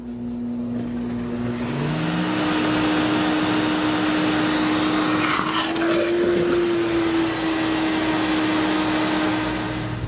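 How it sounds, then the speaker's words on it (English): Sirena water-filtration vacuum working as a wet pickup vac, a loud continuous motor roar with a steady whine that dips briefly and rises again, running alone without talk. "The Sirena will also function as a wet pickup vac. Watch how quickly this works."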